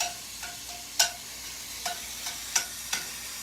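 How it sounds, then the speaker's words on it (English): Beef and pasta stir-fry in a hot pan with a soft, steady sizzle, broken by a few sharper scrapes and clacks as the food is stirred and tossed. No one speaks. "So that's the simple aspect of stir frying."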